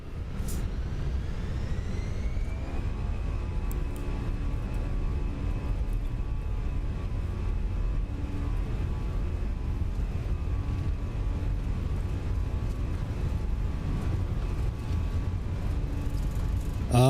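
Fenix Airbus A320 jet engines in Microsoft Flight Simulator 2024 spool up with a steady rising whine over a constant low roar that holds loud throughout.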